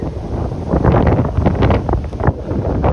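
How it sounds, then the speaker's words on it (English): Strong gusts of wind buffet the microphone outdoors in New England, with loud, rumbling roars that swell and fade, no voices present. "As you guys can hear, it's always windy out here"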